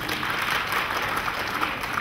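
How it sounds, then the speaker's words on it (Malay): Audience applause at a teachers' symposium, a dense, steady clapping from a hall crowd that holds its level throughout. "Saya nak dengar tepukan gemuruh untuk diri sendiri."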